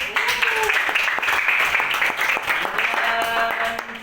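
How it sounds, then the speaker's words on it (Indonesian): A classroom claps for a student named Muiz during an Akidah Akhlak lesson, the brief claps mixed with voices and other classroom sounds. "Boleh beri tepuk tangan untuk Muiz."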